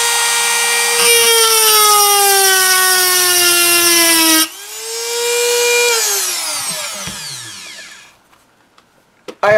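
A Tacklife hand rotary tool grinding a groove whines loudly at high speed, its pitch dipping under load, then winding down to near silence before a brief final burst.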